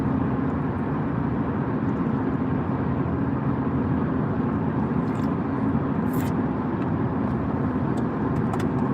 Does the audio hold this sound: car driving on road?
yes